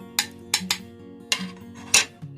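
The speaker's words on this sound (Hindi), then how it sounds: "तो इन सबको मैं केचप में मिक्स कर दूंगी" A spoon stirs paprika, oregano, chili and salt into ketchup for homemade pizza sauce, giving a handful of sharp, irregular clinks and taps against the bowl over a quiet background.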